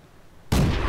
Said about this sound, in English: See if I can't start shooting through the wall here.